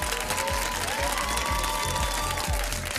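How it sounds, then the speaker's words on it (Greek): Greek TV studio audience applauding steadily on a talk show, a dense wash of clapping with background music tones and low thumps running beneath. "Και ένα χειροκρότημα για το Μαράκι."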